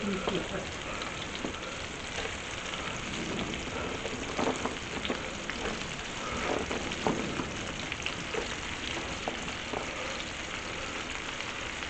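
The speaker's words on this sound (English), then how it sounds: "Listen to that sizzle" Dense, steady crackling and hissing of squash sizzling in hot olive oil, continuous throughout with scattered sharper pops and no talking.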